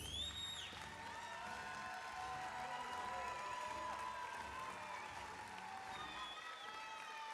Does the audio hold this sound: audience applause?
yes